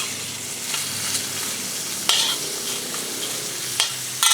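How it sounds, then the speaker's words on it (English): Prawns fry in oil in a pan for spicy garlic shrimp spaghetti, making a steady bright sizzle broken by a few sharp utensil clacks against the pan. "if you want to make delicious prawn oil, which is red orange color, you have to fry it longer"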